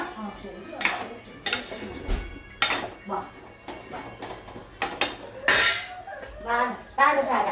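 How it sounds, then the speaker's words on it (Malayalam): Avial vegetables are stirred and mixed in a metal pot, producing close, irregular clanks and scrapes of a spoon against the pot, some strokes sharp and loud, with no talk. "ഇത് അങ്ങോട്ട് ഇട്ട് കൊടുക്കുക എന്നിട്ട് നല്ലതുപോലെ ഇളക്കി യോജിപ്പിക്കുക"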